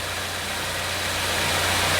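The engine of a 2016 Ford Escape idles in a steady, even drone with a low hum, close and continuous with no talk.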